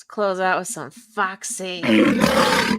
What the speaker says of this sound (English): That lion sounds fat.